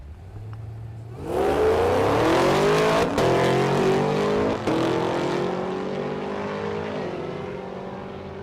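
A Chevrolet Camaro and a Dodge Charger launch side by side in a drag race at Thunder Valley in Noble, Oklahoma, engines roaring up hard from a low idle into a loud, sustained rising howl that slowly fades.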